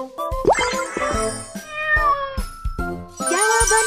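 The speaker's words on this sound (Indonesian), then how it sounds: "Meong, meong, tolong bantu aku menemukan kucing." Cartoon cat meowing in a children's animated learning game, several high, bright meows in quick succession with rising pitch bends, mixed with chimes and musical tones, loud and close.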